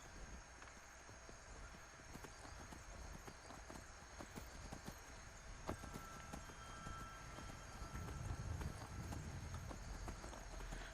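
Rapid hoofbeats clop steadily throughout, a galloping horse in Skyrim over a dense background of effects and music.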